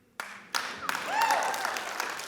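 An audience at a poetry reading snaps and claps. A few sharp isolated snaps come first, then a burst of scattered applause that swells and lingers, with a faint high whistle-like tone mixed in.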